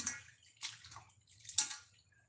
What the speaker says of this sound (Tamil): நல்லா பிணைஞ்சு அலசிக்கோங்க அப்போ தான் அந்த பிசு பிசுக்கு தண்ணியெல்லாம் போகும்